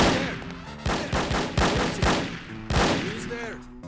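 Rapid bursts of gunfire from the first-person shooter No One Lives Forever, a run of about half a dozen sharp shots spaced unevenly, loud and close, each ringing out briefly.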